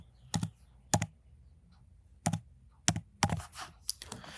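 A computer keyboard being typed on to enter a case A number, a handful of sharp, distinct key clicks spaced out then quicker at the end, close and quiet in a silent room with no talking.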